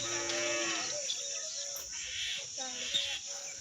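A water buffalo calf moos on a farm in a few drawn-out, close calls over steady background noise.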